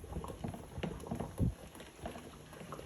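Muscadines simmer in a pot on the way to jam, giving a soft, low bubbling and popping with irregular small bursts, close by and faint, with no voices.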